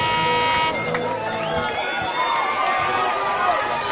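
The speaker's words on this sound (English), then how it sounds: "His crowd is boisterous." Fans at a Star Valley Braves high school football game against Riverton cheer loudly around the kickoff tee, with a public address announcer hyping them, the crowd noise blending steadily under a commentator's voice.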